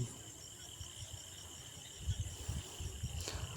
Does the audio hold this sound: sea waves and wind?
no